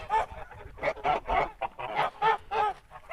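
Young Kholmogory geese, about four months old, honk repeatedly in a series of loud, close calls with short gaps between them, and no voices are heard.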